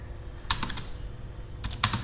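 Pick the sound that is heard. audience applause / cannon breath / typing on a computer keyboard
typing on a computer keyboard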